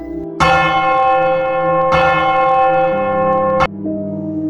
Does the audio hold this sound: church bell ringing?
yes